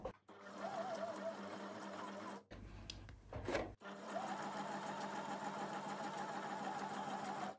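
Sewing machine stitching paper junk journal pages, a steady close whirring hum that pauses briefly midway while the work is turned, then resumes running evenly.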